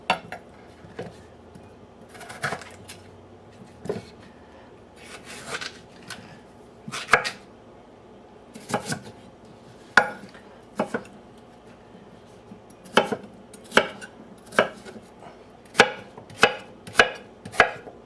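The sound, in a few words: chopping potatoes into chunks for potato salad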